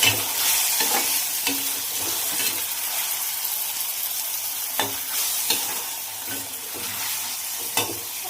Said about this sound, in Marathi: टोमॅटो पण छान असं परतून घेते